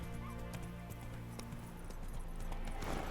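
Horse hooves clip-clop at a steady galloping rhythm in the video game Witcher 3, over a continuous low background tone of game ambience, close and clear.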